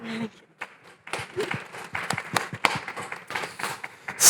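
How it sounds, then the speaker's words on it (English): An audience at a London climate technology show claps for a speaker, a short burst of scattered, fairly sparse applause that swells slightly toward the end. "please help me with a clap to her"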